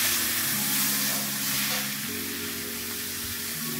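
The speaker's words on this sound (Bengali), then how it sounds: "টমেটোটাকে কিছুক্ষণ নাড়াচাড়া করে নিচ্ছি।" Tomato frying and being stirred in a hot pan for bread pakora filling, a loud, continuous sizzle with soft stirring scrapes, heard up close with no voices.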